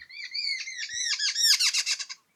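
A jungle babbler gives a run of harsh, rapid chattering calls, rising into a quick stuttering series before stopping, clear and close against silence.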